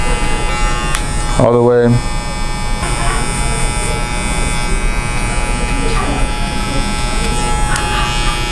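Electric hair clippers hum loudly and continuously at close range while cutting a mid fade buzz cut, their steady buzz briefly interrupted once, as someone talks over them.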